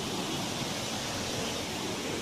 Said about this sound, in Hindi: और यहाँ पे जैसा पानी इतना रफ्तार से गिर रहा है